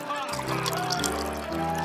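Water pours into a container in a short, close burst, with a gurgling fill whose pitch steps upward as it rises, partly over a brief voice.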